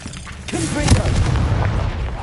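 A Confringo spell in Hogwarts Legacy on PS5 erupts in a heavy explosive blast that swells to a peak near the middle and rumbles on after it, with a voice underneath.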